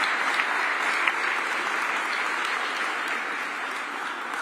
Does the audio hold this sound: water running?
no